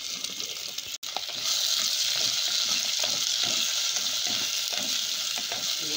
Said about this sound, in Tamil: ஒரு வெங்காயம் கட் பண்ணி வச்சுருக்கேன், இதோடு சேர்த்து கருவேப்பிலையும் போடுறேன்.